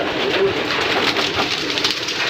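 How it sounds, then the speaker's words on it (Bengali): Domestic pigeons coo in a loft, a steady soft cooing that continues throughout amid constant bird chatter and rustling, with no talking. "এই কবুতরটা এই জায়গায় আসছে"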